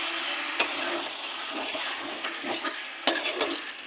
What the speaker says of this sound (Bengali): এটাকে ভালো করে কষিয়ে নেব।